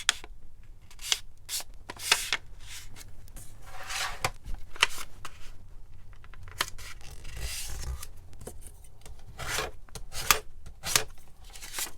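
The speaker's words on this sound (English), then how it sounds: "And then I'm going to go ahead and fold it down this way." Paper being folded into a clear junk-journal envelope, with soft, close crinkles, rubs and sharp creasing swipes in irregular bursts, quiet and without speech.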